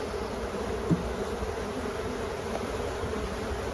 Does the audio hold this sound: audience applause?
no